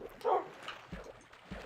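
A Minecraft wolf pet in a video game gives a couple of short yips and whimpery barks, faint, with brief soft clicks between them and no speech.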